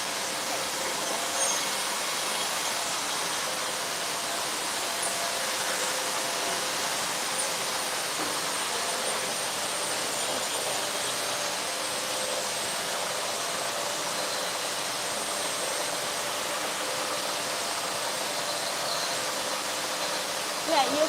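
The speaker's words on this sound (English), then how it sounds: "you can see this machine have the 4 heads. 4 heads to make the different PCB profile, different PCB routine" A four-head PCB routing machine runs in a circuit board factory, giving off a steady, loud broadband whir and hiss that holds evenly throughout.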